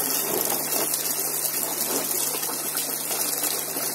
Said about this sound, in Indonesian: Campur dulu airnya, lalu dimasukkan ke dalam bak terpal.